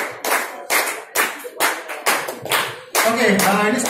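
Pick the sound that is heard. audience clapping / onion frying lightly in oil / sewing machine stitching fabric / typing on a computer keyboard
audience clapping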